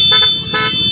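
Car horns honk from behind on a city street at night in Gorontalo, several loud blasts in about a second over steady traffic noise.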